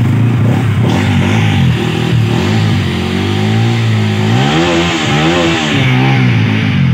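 A BS6 motorcycle engine revs inside a second-hand bike showroom, a loud close rumble that rises and falls through several throttle blips, with no talking.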